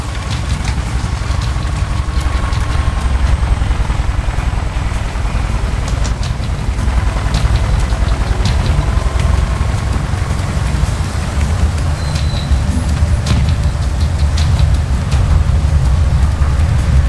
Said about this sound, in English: Chopper! And it's not one of ours!